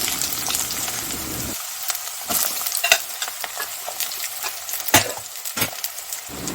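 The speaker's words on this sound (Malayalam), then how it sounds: "നമ്മൾ അരിഞ്ഞു വെച്ചിരിക്കുന്ന വെളുത്തുള്ളി ഇഞ്ചി പച്ചമുളക് ചെറിയുള്ളി ഇവയെല്ലാം കൂടിയിട്ട് നന്നായിട്ട് വഴറ്റി കൊടുക്കാം" Chopped garlic, ginger, green chili and shallots sautéed in a pan for a fish curry, giving a loud, close sizzle with frequent scraping strokes of a spoon against the pan, steady and uninterrupted by speech.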